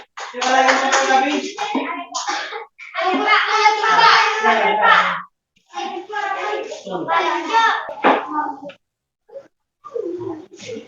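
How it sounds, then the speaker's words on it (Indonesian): A classroom of primary-school pupils claps for a group of classmates, with bursts of hand clapping mixed with children's voices and cheering in several waves before it trails off. "tepuk tangan dulu untuk kelompok 2"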